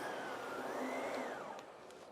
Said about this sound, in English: I can release it, turn the vacuum on, and then I can just vacuum my stairs